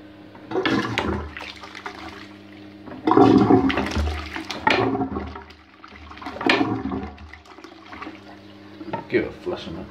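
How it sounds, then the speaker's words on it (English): A classic style toilet in a house in Neath, Wales, is flushed, giving a rushing gush of water with refill noise, while a person talks over it. "Give it a flush on it."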